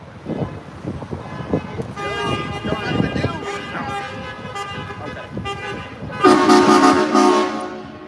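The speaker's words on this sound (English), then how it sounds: "Oh, there's that loud truck." A loud truck passing on a downtown Clearwater street and sounding its horn, with long tonal blasts that grow louder and peak near the end amid traffic rumble and scattered voices.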